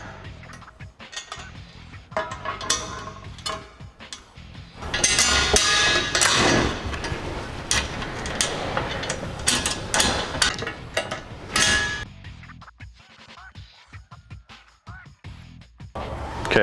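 A wrench works bolts on the bumper backing plate of a Polaris RZR 900S, making close metallic clicks, taps and clanks in irregular bursts, with a dense busier stretch in the middle.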